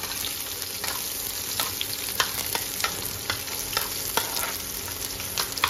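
Onions frying in a pot with a pinch of asafoetida for a ridge gourd sabzi, a steady close sizzle broken by repeated scraping stirs at an even rhythm.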